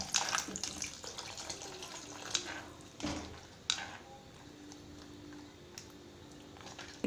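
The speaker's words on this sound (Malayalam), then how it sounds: "നമുക്കിതിൻ്റെ അകത്തേക്ക് ആവശ്യത്തിന് വെള്ളം ഒഴിച്ചു കൊടുക്കാം." Water pours into a pan of okra vathal kulambu curry, a close splashing gush with a few clanks, fading to a softer trickle and quiet background.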